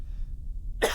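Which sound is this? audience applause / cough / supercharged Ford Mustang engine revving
cough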